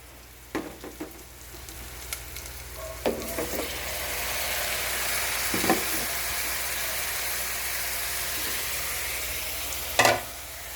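Pechay leaves stir-fried with chili in a hot pan, a steady broad sizzle running throughout with scattered scrapes and knocks of the spatula and a louder clatter near the end; no voices.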